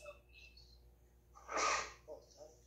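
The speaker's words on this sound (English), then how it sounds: "Oh, bless you." A person gives a single sharp sneeze in a quiet room, a short loud burst rising from near silence, followed by a couple of faint breaths.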